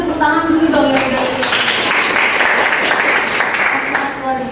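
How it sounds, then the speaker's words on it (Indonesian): Children applauding in a classroom after a role-play, steady dense clapping throughout, close and fairly loud, with voices and chatter mixed in. "Sekarang kita kasih tepuk tangan dulu dong"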